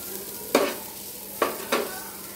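Flattened rice pulao (chire pulao) reheated in a pan, three distinct scraping stirs over a low steady sizzle, close and without talk.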